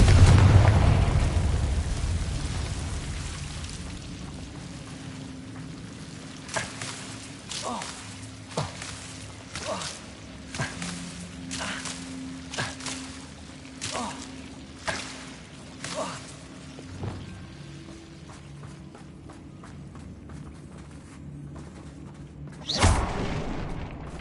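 Repeated fire-spell blasts in the Hogwarts Legacy video game: a dozen or so sharp bursts in an uneven run, each a quick crack with a short tail over a low rumbling game backdrop, capped by a louder final blast.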